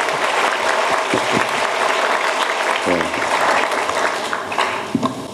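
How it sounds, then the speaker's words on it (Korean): An audience at a lecture on policing and investigation reform applauds steadily and fairly loudly, with a short spoken reply heard briefly within the clapping. "일어나서 박수 한번 받으시오."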